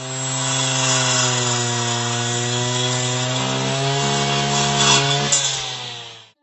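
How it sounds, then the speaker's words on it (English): A small-engine power weeder with a rotating blade cutting fodder grass runs in a steady, loud, droning whine with a strong even pitch for several seconds, then winds down at the end, with no talking. "Rotating cutting tool of the weeder throws small stones and pebbles on the front side."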